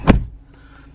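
A Mazda CX-3 2.0 SKYACTIV-G Sport Nav+ automatic door slams shut once, a single close thud followed by faint cabin quiet.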